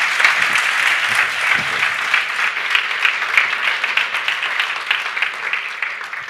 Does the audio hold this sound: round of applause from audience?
yes